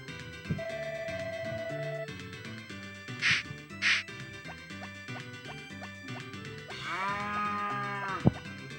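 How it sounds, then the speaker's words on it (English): Cartoonish cattle moos come from the Harvest Moon farming game over chiptune-style background music. There are short electronic blips and a longer drawn-out moo near the end. "I'm actually going to pause to take care of all of my cows"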